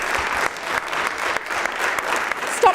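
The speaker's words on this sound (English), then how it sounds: "Stop clapping" Applause fills a city council chamber during a full council meeting, a steady dense clapping from many hands in the room, continuous throughout with no break.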